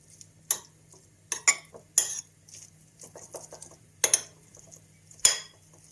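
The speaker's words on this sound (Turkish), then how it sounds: "Sosu noodle'la iyice karıştırıyoruz." Noodles being mixed with soy sauce and chili sauce in a bowl for Korean ramen, giving sharp clinks and scrapes of utensils against the bowl in irregular bursts, close and fairly quiet with soft stirring between.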